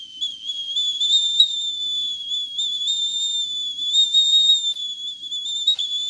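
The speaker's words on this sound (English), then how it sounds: "That's a hell of a whistle." A Petromax camping kettle whistles shrilly and steadily as its water boils, one high continuous tone that wavers slightly in pitch and stays loud and close for the whole stretch with no talking.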